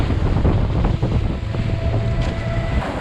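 Fishing boat speeding through rough white water off Bali, engine drone mixed with rushing spray and heavy wind blasting the microphone, loud and continuous with no speech.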